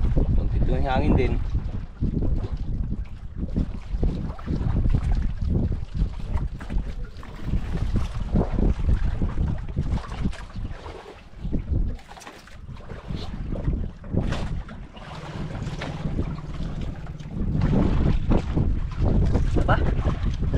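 Wind buffets a fishing boat out at sea, a steady broadband roar with gusty swells that runs nearly the whole time beneath people chatting on board.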